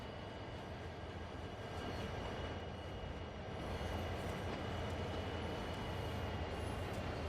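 Trains running in a video game on an Xbox Series X, a steady rolling rumble with faint rail clatter, continuous and moderately quiet, slightly swelling partway through.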